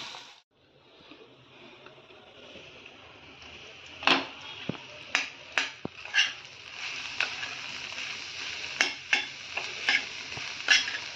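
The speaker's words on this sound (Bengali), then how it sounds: "নেড়ে নেড়ে এটা ভাজা ভাজা করে দিতে হবে ডিমটা" Egg sizzling in a hot pan while a utensil scrapes and stirs it in repeated sharp strokes, loud and close.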